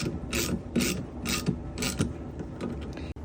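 A hand ratchet clicks in short rhythmic bursts while tightening a bolt during a Corvette C5/C6 big brake upgrade on a Caprice Classic, close and mechanical, with no speech.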